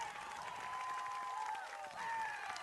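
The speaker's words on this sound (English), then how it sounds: "certainly some appreciation here shown by the home crowd" A home crowd at a high school baseball championship game applauds and cheers after a double play, a steady wash of clapping with scattered voices sustained throughout.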